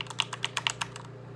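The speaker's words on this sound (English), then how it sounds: "Arrow keys." Rapid light clacks from arrow keys on a SteelSeries Apex 7 TKL mechanical keyboard with Cherry MX Red switches, about ten close presses in quick, uneven succession over a low background hum.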